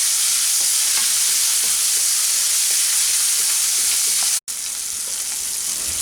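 Chopped medium tomato hits frying onions in a pan for a Bengali-style ridge gourd dish, giving a loud, continuous close-up sizzle with faint stirring scrapes and a brief cut near the end.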